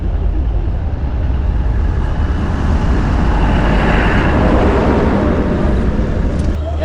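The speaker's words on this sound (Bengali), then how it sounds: "বর্তমানে চলে এসেছি আমরা বানিহাল রেলওয়ে স্টেশনে।" Ambience at Banihal railway station in Kashmir with a local train, a steady loud rumble of engine and wheel noise filling the scene without pause.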